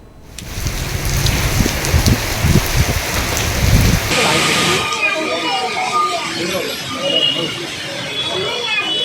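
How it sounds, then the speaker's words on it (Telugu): Steady heavy rain hiss fills the scene during an early-morning downpour in Hyderabad, with a louder rumbling, talk-like stretch in the first four seconds before the downpour continues on its own. "హైదరాబాద్ లో ఈ తెల్లవారుజాము నుంచి కుండపోత వర్షం పడుతోంది"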